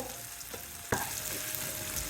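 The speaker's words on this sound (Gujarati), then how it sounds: "આપણે મીડિયમ તાપે આપણે એને 2 મિનિટ માટે કરશું સોતે" Masala sizzling in a pan on medium heat for a Kathiyawadi methi muthiya shaak, a steady soft frying hiss with a sharp stir or clatter near the middle, no voices.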